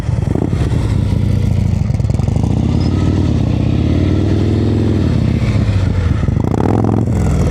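A motorcycle practicing slow-speed turns in Georgia idles and burbles loudly up close, its engine note rising and falling with gentle throttle changes and a brief rev near the end.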